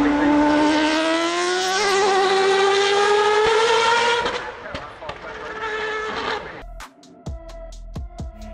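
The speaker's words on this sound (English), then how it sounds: "Can you imagine how does a rotary-powered race car sound?" A rotary-powered Le Mans race car screams past at Goodwood Festival of Speed, a loud rising high-pitched engine wail that fades, followed by sharp crackling pops and bangs from the exhaust.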